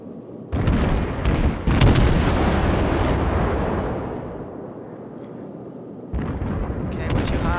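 Naval guns fire in World of Warships aboard the Sampson destroyer. Two or three heavy booming salvos crack out near and loud, then a long rolling rumble fades before another blast, with occasional talk mixed in.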